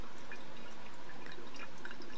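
Brine layer draining from a separatory funnel during a reaction work-up, a continuous soft trickle of liquid with faint dripping, steady and close, no voices.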